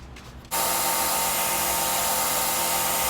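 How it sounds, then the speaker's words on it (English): Belt sander fitted with a 220 grit belt, used to shape a knife handle, switches on abruptly and runs as a loud, steady close-up roar. "Onto the 220 grit belt."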